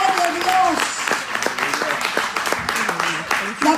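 A church congregation claps during a sermon, a loose run of hand claps under a singing or chanting voice that carries through the whole stretch.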